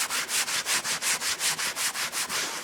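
An old brush with mild hand soap scrubs leather in a quick, even rhythm of about a dozen soft rasping strokes, close up and with no voices.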